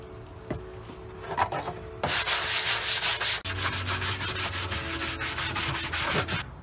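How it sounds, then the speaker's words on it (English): A vinyl bucket seat from a 1969-72 GM A-body (Chevelle, GTO, Cutlass) is scrubbed with bleach soap: steady, close, rasping brush strokes in a quick back-and-forth rhythm, growing louder and harsher midway. "Scrub them down with bleach soap."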